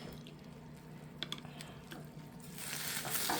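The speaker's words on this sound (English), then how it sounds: "Oh, boy, you can hear that heat. Sizzling, yep." Onions and tomato sizzle in a hot pan as a soft, steady hiss that grows louder toward the end, with a few faint clinks along the way.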